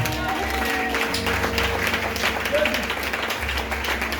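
A church congregation applauds and cheers in praise of the Lord, a steady, dense wash of clapping and crowd voices that holds evenly for the whole stretch, with music tones underneath.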